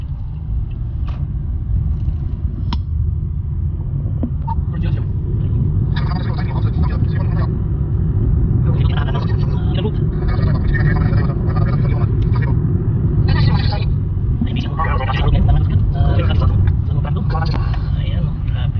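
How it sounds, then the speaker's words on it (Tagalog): Road traffic rumbles and idles as cars wait behind a stopped school bus, a continuous low engine drone with scattered mechanical clicks while people talk over it. "Ayan oh, traffic na."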